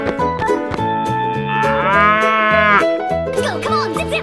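A cartoonish cow moos in a video game, a long, loud, bellowing call lasting a few seconds, set against steady game music and sound effects.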